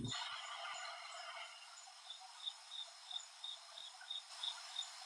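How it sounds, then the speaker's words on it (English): Crickets chirp steadily outdoors, a dense high trilling bed with a clearer pulsing chirp repeating at a regular rhythm through the second half, alone without voices. "God, the crickets were great there."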